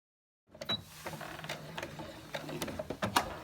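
A sewing machine stitches a wristlet strap, starting abruptly after a brief silence and running as a close, steady mechanical whir with small clicks and faint rhythmic ticking throughout.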